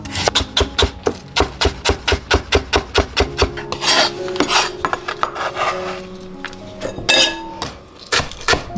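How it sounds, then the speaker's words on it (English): A knife chops daikon into matchsticks on a cutting board in a fast, steady run of crisp, close knocks, pausing briefly before more quick cuts, with no talk. "Then use the same method to cut daikon into matchsticks."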